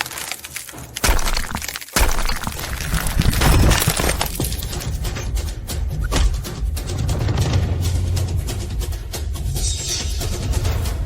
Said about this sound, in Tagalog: Hindi ko inakala na yung batong to ay ganito kamarupok. Nabasag.